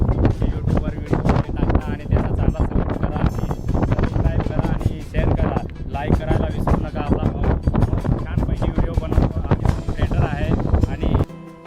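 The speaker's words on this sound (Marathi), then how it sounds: "प्रचंड वेगाने वारा हा वाहत होता" Strong wind roars across the iron-stair final stretch of Kalsubai peak, buffeting the microphone in continuous loud gusts, with a voice talking over it throughout.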